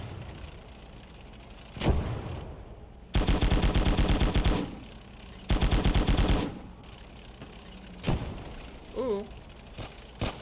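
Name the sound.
machine gun magazine dump in the video game Gates of Hell: Ostfront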